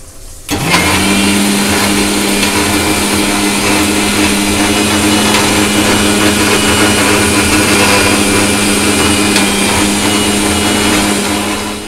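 A mixer grinder whirs to life after a brief pause and grinds a spice paste with green chillies for a fish curry, holding a loud, steady motor drone to the end.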